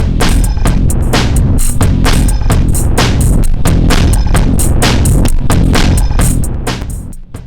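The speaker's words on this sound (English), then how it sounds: "this kind of plugin is set up to be able to clip quite hard" Dense synthesizer mix pushed into hard clipping through the Console7 Cascade plugin, a loud, gritty, saturated wall of sound with pulsing beats that fades slightly at the end.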